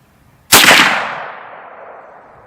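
A single loud 45-70 rifle shot, fired while sighting in at 100 yards, with a sharp crack followed by a long decaying echo that rings out for about two seconds.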